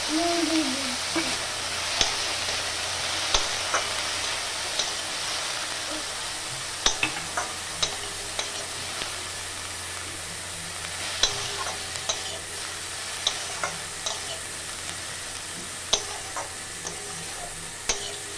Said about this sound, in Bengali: সবজিটাকে এবার একটু হালকা ভেজে নেব।